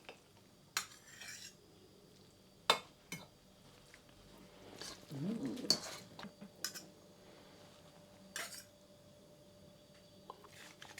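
Utensil clinks and scrapes against a bowl set inside a pan as carbonara eggs are stirred over a bain-marie, quiet and close, with scattered sharp taps and a wetter stirring swirl midway.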